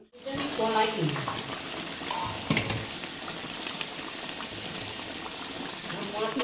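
Eggs and potatoes boil in a pot while cooking biryani at home, a continuous bubbling and simmering wash with occasional clinks and stirring sounds, close and moderately loud throughout.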